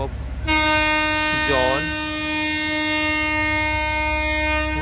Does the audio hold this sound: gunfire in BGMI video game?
no